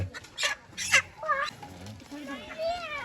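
A hen clucks close by in a village setting, a few short bright calls followed by softer murmuring clucks, with light talk and background noise around it.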